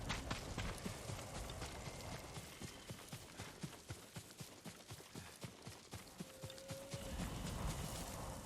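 Horse hooves clip-clop in a steady walking rhythm on open ground in the Ghost of Tsushima video game, fairly close and clear, with a brief whinny-like tone near the end and no talking.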